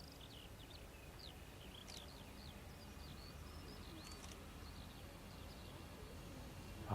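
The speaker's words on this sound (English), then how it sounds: "Can you hear the birds?" Birds sing outdoors at RAF Waddington, faint repeated chirps and whistles from some distance over a steady background hum of wind and engine noise.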